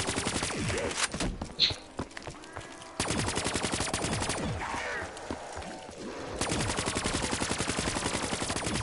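Rapid automatic weapon fire in a PS4 zombie shooter game, with dense bursts of machine-gun shots rattling through most of the stretch alongside other game noise, loud and close.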